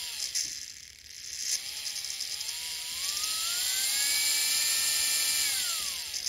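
Small electric motor of a Rivarossi FM C-Liner model locomotive, freshly oiled in its lower bearing, whirs steadily at close range, its high whine sliding up and down in pitch as the speed changes, with no talking.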